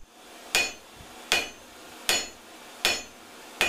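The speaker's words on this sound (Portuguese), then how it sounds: "As marretadas que dão forma às facas artesanais" Sledgehammer blows forging handmade knives from scrap steel, five sharp, ringing metallic strikes at a steady, evenly spaced rhythm, close and loud with brief decays between.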